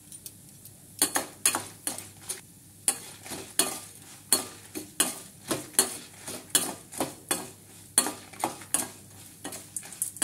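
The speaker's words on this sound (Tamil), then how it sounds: "இப்போ வந்து நம்ம இந்த புளியை சேர்த்து வறுத்துக்கலாம்" Tamarind being roasted with fried lentils in a pan, a quiet, steady series of spatula scrapes and taps at about one stroke per half second over a faint sizzle, close by.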